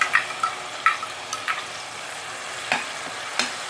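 Onion paste frying in a pan for Punjabi-style rajma masala, a steady close sizzle broken by occasional stirring scrapes and small spits, with no voices.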